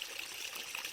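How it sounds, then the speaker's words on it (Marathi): A small natural stream trickles along a path through farmland and hills, its steady, soft splashing murmur continuing close by without pause or voices. "हे बघा छोटासा झरा पाण्याचा"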